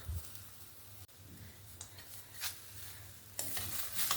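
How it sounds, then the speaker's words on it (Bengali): Grated coconut and cane jaggery being stirred in a wok, giving soft scraping strokes and a light sizzle at close range, with a few sharper scrapes near the end and no talking. "ভালো করে নাড়াচাড়া করতে করতে এটাকে একটা পুর বানিয়ে নেব"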